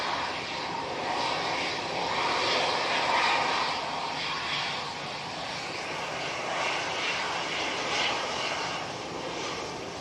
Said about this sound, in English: Emirates is just passing heel green, so it should be in shot any second now.